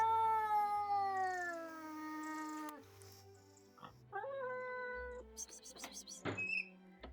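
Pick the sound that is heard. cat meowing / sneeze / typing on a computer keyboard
cat meowing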